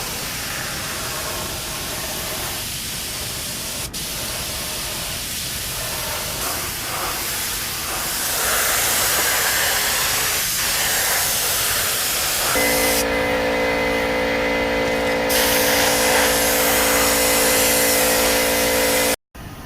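Steady spray-gun hiss as clearcoat goes onto carbon fiber motorcycle parts for a Ninja restoration in a garage, a continuous close broadband spray lasting nearly twenty seconds with brief interruptions and no talking.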